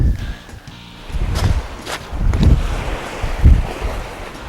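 Waves on a beach wash in a few broken surges over wind buffeting the microphone, loud and close, with no talking.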